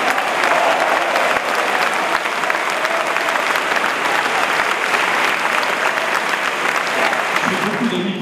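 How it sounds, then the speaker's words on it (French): Sustained audience applause at a French political speech, dense steady clapping filling the room for the whole stretch, loud and even without pause. "Je crois que je vais enregistrer vos applaudissements"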